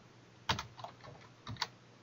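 Quiet keystrokes on a computer keyboard: a few soft, close clicks in two small clusters with a pause between, over faint background hiss.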